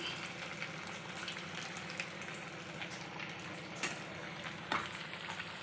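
Flattened prawn and oats patties sizzle steadily in hot oil, a dense, constant crackle close by with a few sharper pops breaking through near the end.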